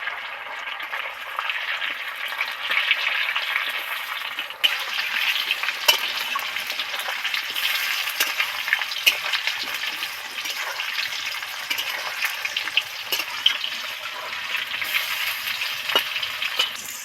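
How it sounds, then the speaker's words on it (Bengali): Tomato pieces fry in oil for an aloo fulkopi dish, giving a steady, dense sizzle with a few brief stirring clicks and no voices. "এবার এর মধ্যে এই টমেটোর টুকরো কটা দিয়ে একটুখানি ভেজে নেব যাতে কাঁচা গন্ধটা চলে যায়"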